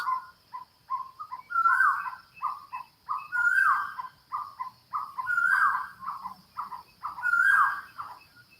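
A bird at sunrise in Thailand repeats a rhythmic series of clear hooting, warbling calls, each phrase rising into a louder burst and then pausing, heard close and alone in a quiet morning.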